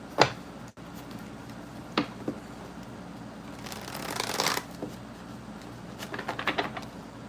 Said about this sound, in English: 2 more decks to shuffle.